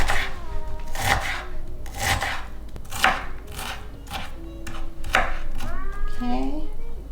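Onion being chopped with a knife on a board, about six crisp, evenly spaced strokes roughly a second apart, close and clear, with a brief high squeak near the end.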